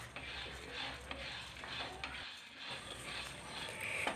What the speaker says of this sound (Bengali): আমি ওভেনটা মিডিয়াম রেখে ছোলাটা ভেজে নেব